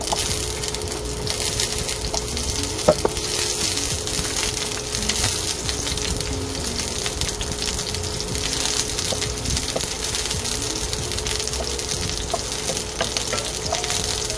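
Onions frying in hot oil for sinigang, a loud, continuous crackling sizzle close up with occasional sharper pops and a faint steady hum beneath.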